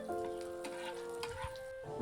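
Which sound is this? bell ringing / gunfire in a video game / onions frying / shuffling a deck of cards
onions frying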